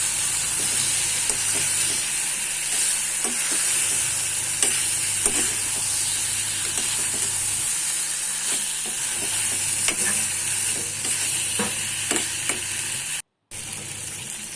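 A spatula stirs fried potato and brinjal through a pan of mixed vegetables, with steady sizzling throughout and repeated soft scraping strokes against the pan, close and continuous, no voices.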